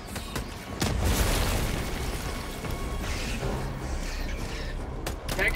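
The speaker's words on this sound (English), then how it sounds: "Throwing grenade." Grenade blast in Helldivers 2, a sharp boom near the one-second mark that swells into a sustained, rumbling roar of battle noise and debris lasting several seconds.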